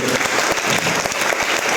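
A large crowd at a motivational business meeting claps steadily, a thick, loud, even wash of many hands with no voices over it.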